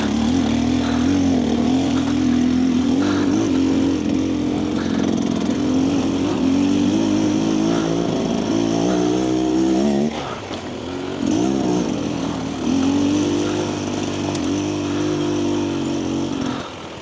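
A 2025 Husqvarna TE300 dirt bike engine drones loud and steady while riding over bumpy terrain, its pitch rising and falling as the throttle changes, with a brief dip near the middle before it picks back up.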